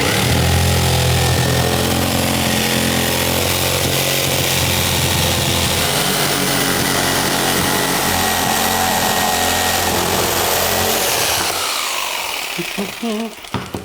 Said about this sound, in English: bring my jigsaw over, set the blade in that hole